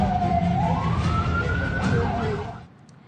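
A warning siren wails across an Israeli city after Iranian missile strikes, one rising and gliding tone over a heavy rumbling background that cuts off and drops to near silence at the end.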